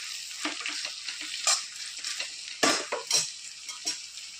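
Okra and masala for a lady's finger pickle are stirred in a pan over a soft sizzle, with repeated scraping strokes and a few sharper clinks of a spoon against metal.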